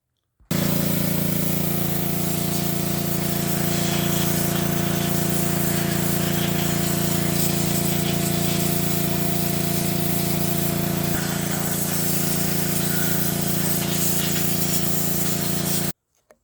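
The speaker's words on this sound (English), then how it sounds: "wheel this nasty thing outside and pressure wash on it just a little bit" A grimy Chevrolet 4.3 engine from an S10 is pressure washed outdoors: a loud, unbroken hiss of spray over a steady droning motor hum runs for about fifteen seconds, then cuts off abruptly.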